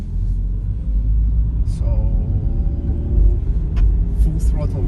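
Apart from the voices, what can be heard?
Lada Largus car accelerating at full throttle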